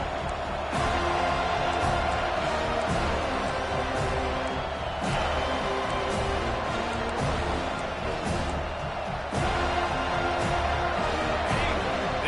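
A football stadium crowd roars steadily as the home fans try to keep the opponent pinned deep in its own end, a dense wall of cheering and noise under a commentator's talk throughout.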